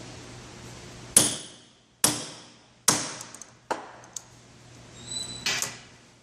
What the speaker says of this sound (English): It's got a little spring-loaded die on the end, and you just hammer it home.